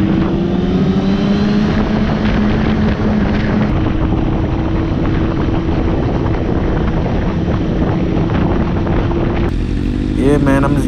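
A motorcycle riding along with a group, its engine droning loud and steady under heavy wind buffeting throughout, with a brief change in tone near the end.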